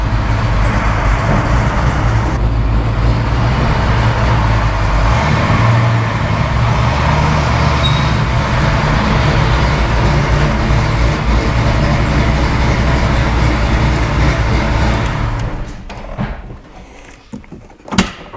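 A 2002 Chevy Silverado GMT800 truck driving with no mufflers: a loud, continuous low exhaust drone and road rumble heard from inside the cab, steady for most of the stretch before easing off near the end.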